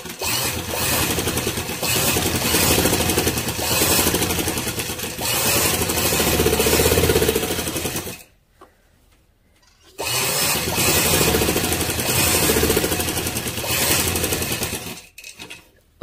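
A sewing machine stitches a kameez in steady, loud continuous runs, pausing briefly midway before whirring on again, with no talk.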